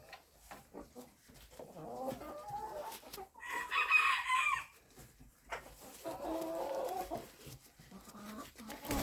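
Chickens cluck in a busy, continuous chatter, and a rooster crows once in the middle, loud and near.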